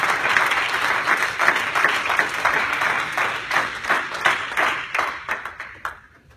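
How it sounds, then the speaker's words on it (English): A church congregation claps hands together in a dense, rhythmic burst of applause with sharp, regular beats that fade out near the end, loud and close with no speech over it. "Clap your hands and praise the Lord."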